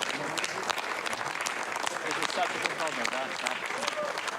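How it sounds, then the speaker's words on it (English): At the maiden launch of the Ariane 6 rocket, a crowd claps continuously in a dense, even wash of applause, heard at moderate level with voices mixed in. "Lots of clapping."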